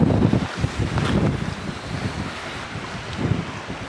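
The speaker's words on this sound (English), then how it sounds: "So the wind is coming from the right, pretty strong from the right now." Strong wind buffets the microphone on the Isle of Wight coast at Totland during a sea fishing session, a steady loud rumbling roar with gusts swelling and easing, no voices.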